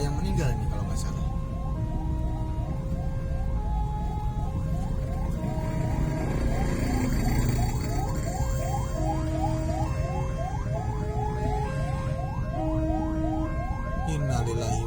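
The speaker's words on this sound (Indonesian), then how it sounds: "Ambulan beriringan dua ya." Two ambulances travel in convoy along a busy city road in Bandung, their wailing sirens overlapping continuously and loud above steady traffic rumble, with a voice talking over them.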